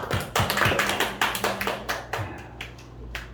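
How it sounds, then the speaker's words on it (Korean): A church congregation claps together during a Sunday worship service, a loud run of quick, fairly even hand claps that thins out toward the end, with no voices over it. "우리 하나님께 박수"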